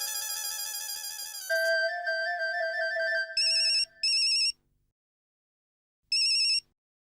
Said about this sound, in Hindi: सुंदर को फोन लगा